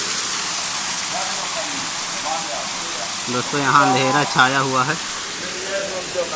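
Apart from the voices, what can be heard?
large waterfall inside a cave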